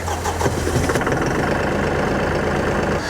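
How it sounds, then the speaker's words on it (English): A New Holland WorkMaster tractor's diesel engine cranks and catches, then settles into a loud, rumbling, rhythmic idle close by. "To start the tractor, we're going to depress the clutch and we're going to turn our key."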